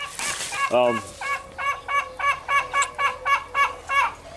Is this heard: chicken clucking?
yes